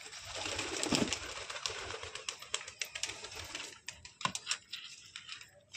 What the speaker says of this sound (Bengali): এই যে সব পায়রা আসছে।